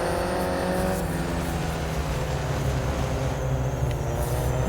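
Alfa Romeo 4C race cars in Real Racing 3 drone with a steady, loud engine roar that holds an even pitch throughout, no voices on top.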